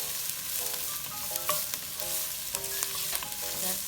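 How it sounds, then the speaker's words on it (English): Shrimp with scotch bonnet pepper and green onion sizzles in a pot while a spoon stirs through it, giving steady frying crackle with scraping strokes and no talking. "Then I'm going to stir it up"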